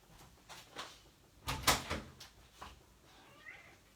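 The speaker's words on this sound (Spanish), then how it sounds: "Deme un segundo que le voy a abrir la puerta a mi gato que está rayando la puerta para que le abra." A house cat scratches at a closed door to be let in, giving several short scraping and knocking bursts close by, with what may be a brief meow.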